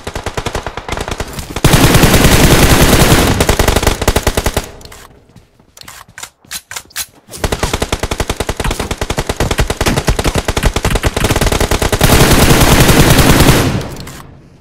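Gunfire in the mobile battle royale BGMI: loud, sustained automatic bursts of rapid shots, broken by a short gap of single sharp cracks, then long continuous firing again, close and with no speech.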